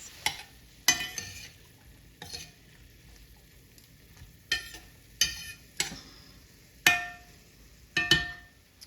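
Vegetables and celery for jambalaya cook in a pan with a soft sizzle, punctuated by repeated scraping and clacking strokes of a utensil stirring against the pan.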